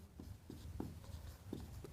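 Pen or chalk writing during a chemistry lesson on chemical equations, heard as a few soft, faint strokes and taps at an irregular pace in a quiet room.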